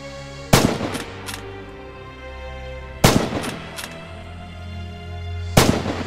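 Three loud, sharp rifle shots in the video game Red Orchestra 2, each followed by a short bolt-action clatter and a ringing tail, evenly spaced about two and a half seconds apart.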